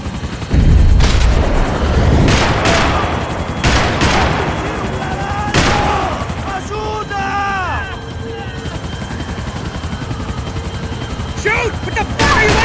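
Gunfire crackles in Max Payne 3, a video game, in sharp loud bursts near and far alongside explosions and a helicopter drone, with shouted voices over the action.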